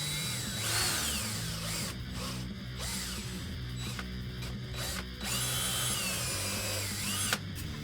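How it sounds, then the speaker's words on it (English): A cordless drill whines steadily, its pitch rising and dipping as it bites into material, with brief pauses between bursts and a sharp click near the end. "Then we can drill our holes. I don't even have to set it up on the drill press."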